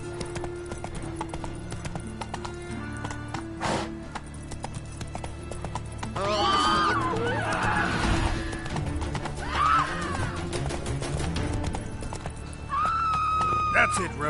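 Roach, the horse in the Witcher 3 game, clip-clops along and lets out a couple of short whinnies and snorts over steady background music, with brief in-game talk.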